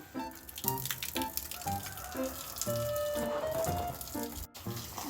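Water from a hose sprays and splashes while filling a swimming pool, a continuous close wash broken by repeated rhythmic pulses.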